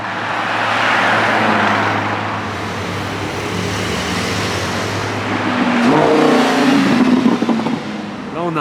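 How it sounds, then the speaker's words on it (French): Aston Martin Rapide S saloon with a front-mounted naturally aspirated V12 revving among supercars in Monaco, a loud sustained engine roar that swells toward the end amid street noise. "Aston Martin Rapide S, berline V12 moteur avant"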